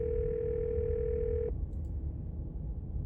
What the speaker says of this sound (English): you hear something drop violently on the other end, then dial tone